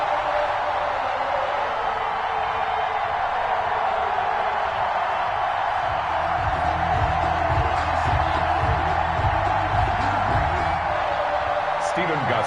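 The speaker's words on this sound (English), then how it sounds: "This crowd is ready as their guys get set to match up with the Tennessee" Stadium crowd in a Madden NFL video game roars steadily before the kickoff against the Tennessee Titans, a dense constant wash of cheering with rhythmic low thumps joining midway and a commentator talking over it.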